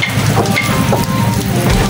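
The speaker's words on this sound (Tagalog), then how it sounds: "Ang lakas ng ulan" Heavy rain pours steadily in Nakar, Quezon, Philippines, a dense, loud hiss of drops drumming on surfaces, with no pauses or voices.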